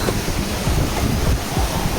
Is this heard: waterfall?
yes